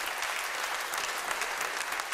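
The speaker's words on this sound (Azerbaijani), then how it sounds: "Gəlin alqışlayaq" A studio audience at a music show applauds steadily, with even, sustained clapping and no pauses, moderately distant.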